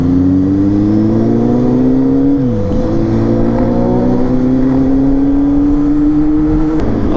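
A Kawasaki Z800 inline-four motorcycle accelerates hard, its engine note climbing loud and close, dropping sharply at a gear change, then rising again in a smooth steady pull.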